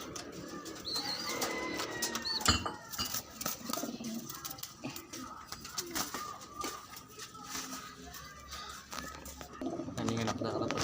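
Pigeons coo in a low, repeating murmur among other bird calls, with some wing flaps, while someone talks over them close by at a rooftop pigeon loft.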